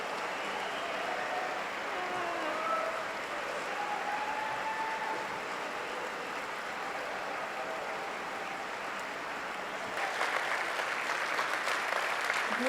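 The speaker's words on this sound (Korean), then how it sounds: "여러분 기립박수를 쳐주시면" Sustained standing-ovation applause from a large crowd, steady and dense throughout, swelling slightly louder toward the end.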